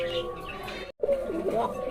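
A male and female pair of pure local red racer pigeons coos close by, soft low calls rising and falling in short phrases, broken by a brief silent gap.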